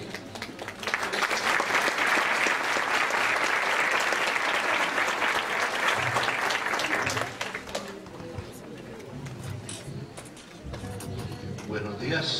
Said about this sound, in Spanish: Recibamos por favor con un fuerte aplauso al doctor.